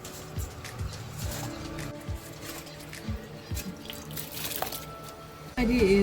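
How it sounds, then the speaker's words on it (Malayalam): Rice boiling in a pot of water for a Malayalam-style rice and chicken dish, a steady bubbling simmer with intermittent low pops and drips, fairly close, followed by a louder clatter at the end. "അരി നല്ലതായിട്ട് തിളച്ചിട്ടുണ്ട്."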